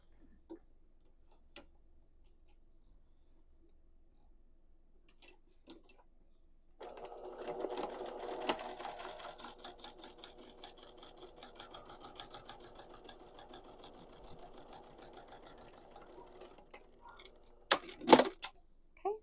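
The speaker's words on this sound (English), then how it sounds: "Now we're going to top stitch this just from corner to corner." A sewing machine top stitches from corner to corner on a skirt pocket, running as a steady, fairly quiet mechanical whir with fine ticking for about ten seconds after a near-silent start, followed by a few sharp clicks.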